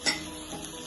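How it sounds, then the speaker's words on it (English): A spoon gently stirring chicken pie filling with its juices in a pot, giving a brief soft scrape and clink at the start, then a quiet sizzling wash, close and faint. "I'll give it a nice gentle stir."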